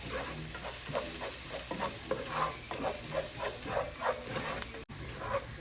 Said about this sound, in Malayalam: ഇതെല്ലാം കൂടെ കൂട്ടിയിട്ട് നമുക്ക് നന്നായിട്ട് മുരിച്ചെടുക്കാം